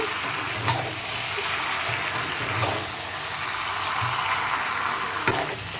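Chicken, potatoes and peas frying in a pan for a mattar chicken curry give off a soft, steady sizzle with occasional stir clicks and scrapes, fairly quiet and without voices.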